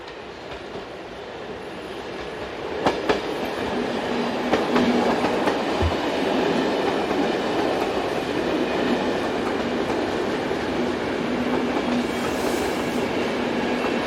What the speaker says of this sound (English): Class AM96 provide more variety of trains to be seen here, as 562 and 568 head north with a service for Paupelringe.